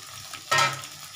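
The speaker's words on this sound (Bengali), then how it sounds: "এবার আমি আলুগুলো দিয়ে দিচ্ছি।" Potatoes are tipped into a hot pan already holding tomatoes, giving a sudden burst of close sizzling that swells for a moment and then settles into a quieter fry.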